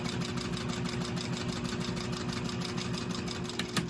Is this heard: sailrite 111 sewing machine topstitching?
yes